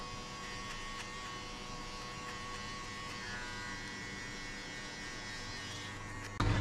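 Hair clipper buzzing steadily and softly during a burst fade haircut, a continuous low electric hum that holds even throughout, with a brief louder bump at the very end.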